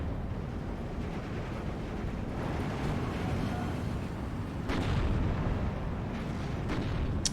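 Mortar and artillery fire in the video game Steel Division 2 pins down an infantry push: a dense, continuous low rumble of distant blasts, with a few sharper bursts standing out near the end, and no voices.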